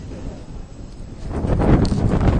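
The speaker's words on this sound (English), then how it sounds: "Ooh, it's windy." Gusty wind buffets the microphone, a low rumbling roar that builds louder and rougher toward the end.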